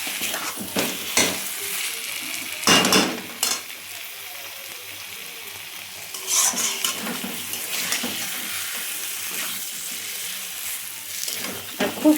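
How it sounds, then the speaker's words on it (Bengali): Raw fish pieces being stirred in spice masala in a pan, sizzling steadily with a few louder scraping stirs near the start and middle, close and alone with no talking. "দেওয়ার পরে ভালো করে একটু মাছগুলো নেড়ে চেড়ে নেবে"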